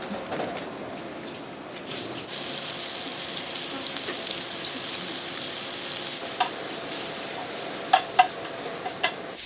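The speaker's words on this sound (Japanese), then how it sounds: "キノコがなかったのでキノコ炒めます" Mushrooms stir-frying in a pan in a home kitchen, a steady close sizzle and crackle with a few sharp clinks of a utensil against the pan near the end.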